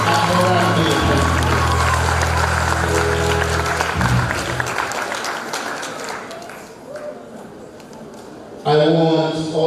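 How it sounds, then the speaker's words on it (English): Students clap in a sustained crowd applause at the Morant Bay High School valedictory service, with voices heard over it and a brief talking voice near the end. "So just put your hands together and clap yourselves for having completed 5 years at Morant."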